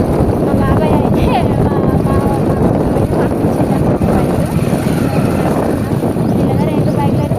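Two motorbikes ride along a sandy forest road on a long village journey, their engines droning loud and close throughout, with heavy wind rumble on the microphone.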